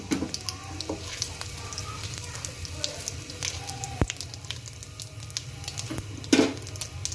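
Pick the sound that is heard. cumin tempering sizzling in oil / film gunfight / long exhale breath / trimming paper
cumin tempering sizzling in oil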